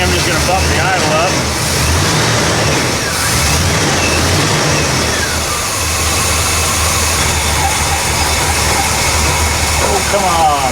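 An Oldsmobile 442 with a charging fault idles with the idle bumped up, a loud, close, steady engine rumble with deep low throb, continuous throughout with no clear revving.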